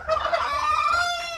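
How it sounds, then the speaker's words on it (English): A hen lets out a loud, drawn-out squawk close by, a single strained call that holds steady for over a second with no voices around it. "I think that's that hen that threw a fit during the eclipse."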